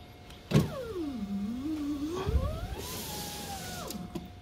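A car's electric power window motor whirs steadily as it slowly raises a sluggish, draggy window, its pitch sagging and climbing under load, close and alone, with a couple of thumps along the way.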